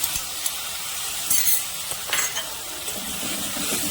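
Onion paste fries in hot oil with tempering and tomato, a lively sizzle broken by stirring scrapes and a few light metallic clinks of a spoon against the pan.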